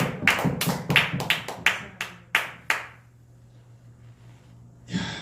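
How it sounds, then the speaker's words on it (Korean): A church congregation claps during a sermon on Revelation: a dozen loud, close, slightly uneven handclaps in quick succession, then the clapping stops, leaving a low hum and a brief sound at the very end. "하나님 박수 한번 쳐요."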